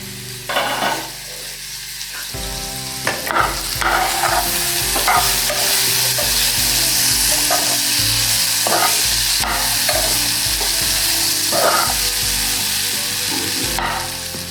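Potatoes fry and sizzle in a pan while being stirred, with a steady loud hiss and repeated scraping stirs over about fifteen seconds, close up with no talking.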